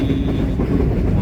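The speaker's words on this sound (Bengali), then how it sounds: "চলেছি আমি আজ ট্রেনে চড়ে।" Train rolling through foggy winter countryside past mustard fields, a loud, close low rumble of wheels and carriages filling the whole short stretch.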